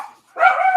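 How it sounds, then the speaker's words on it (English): Dogs barking indoors, one sharp, loud bark near the end that comes after a quieter whine, heard close by. "dogs are losing it"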